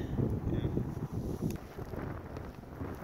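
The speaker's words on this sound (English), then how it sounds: "Beautiful, but cold and windy." Cold wind buffets the microphone on an exposed Appalachian Trail mountaintop between Elk Garden and Massie Gap, a steady, loud low-pitched rumbling gust with no break.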